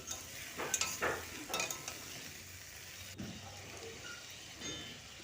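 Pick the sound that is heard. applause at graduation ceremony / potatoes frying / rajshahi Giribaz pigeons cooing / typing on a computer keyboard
potatoes frying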